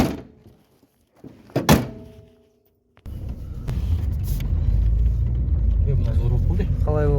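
A Daewoo Nexia with a fault where it won't pull: a few door thunks and clicks in quiet, then the engine catches and settles into a loud, steady low rumble, with a voice briefly heard near the end.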